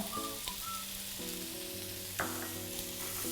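Garlic, coriander root and shiitake mushrooms stir-fry in a hot pan, a bright continuous sizzle close up with a few light utensil clicks and no talking.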